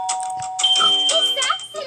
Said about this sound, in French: Et ça, c'est la sonnette.